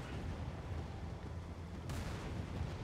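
Sustained gunfire in Halo 3 aimed at a Scarab's legs forms a dense, rumbling barrage with no separate shots standing out, fairly faint and steady throughout, with no voices.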